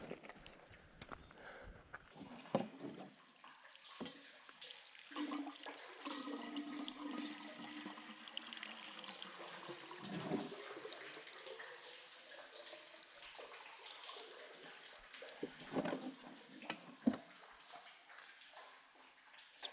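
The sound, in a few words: water being drawn from a desert well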